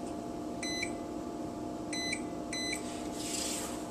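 An oven's control panel gives three short electronic beeps in quick succession as its temperature is set to 350, over a steady low hum.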